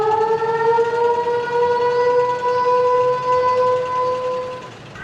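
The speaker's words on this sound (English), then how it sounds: "he stayed in the shed until the siren goes off." A civil defense siren wails steadily for the full stretch, its long sustained tone holding loud and near before easing slightly at the end, with no talk over it.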